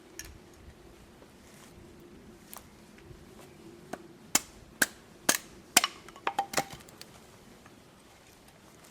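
Wood edges are trimmed for a friction fire lighting set: faint scraping at first, then a series of sharp, close knife or chopping strikes that become more frequent and cluster together toward the end, with no talk.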